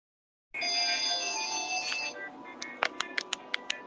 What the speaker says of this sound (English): Yeah, I just got a call on my IP phone